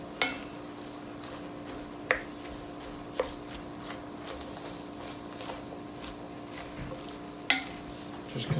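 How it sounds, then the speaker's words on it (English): Cabbage and corned beef stirred in a pot over a steady sizzle, with occasional scraping knocks of the spoon against the pot, close and moderate. "I'm going to stir it every so often so we can get it to start to break down here."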